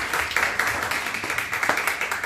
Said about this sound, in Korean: 크게 박수 한번 치고